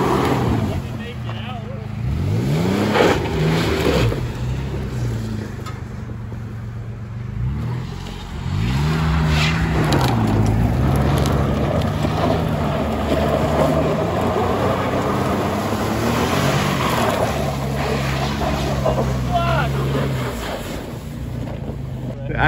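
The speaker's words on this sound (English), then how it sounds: "Just gonna burn out his tires." A car revs hard for a tire burnout, its engine rising and falling in repeated surges amid heavy wind buffeting, with people talking over the noise.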